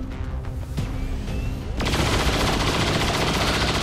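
Rapid gunfire erupts in the XCOM 2 video game, a sharp burst at about the midpoint that turns into dense, continuous shooting.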